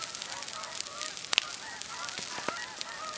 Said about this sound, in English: Oh, I hear a bunch of geese coming.